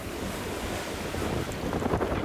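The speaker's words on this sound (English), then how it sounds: "There's quite a bit stronger wind farther out in the sea, so we're getting the waves from that." Sea waves and steady wind out on the Sea of Cortez aboard a moving sailboat, a broad continuous rush of surf and gusting wind buffeting the microphone, with no talking.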